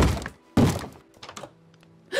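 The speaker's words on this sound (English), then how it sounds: "Is that banging? Is that my front door?" Heavy thuds of someone banging on a wooden front door in Minecraft, three loud close blows spaced about a second apart, the last one starting just as the clip ends, with quiet pauses between.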